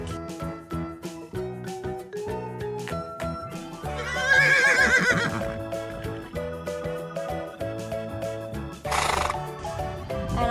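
A toy horse plays a bright electronic neigh amid tinkling toy music, with a second shorter whinny near the end.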